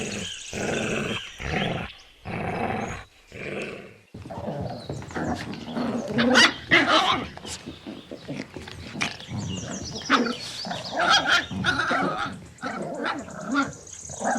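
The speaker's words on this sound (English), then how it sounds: "Puppy." A puppy barks, yips and growls in a busy, uneven run of loud calls, some rough and roar-like, with no break in the noise.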